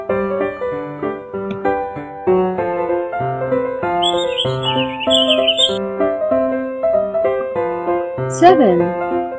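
Cartoonish bird chirps and warbling tweets pop in twice over a cheerful children's counting song, the first burst lasting a couple of seconds and the second a brief trill near the end, with singing alongside.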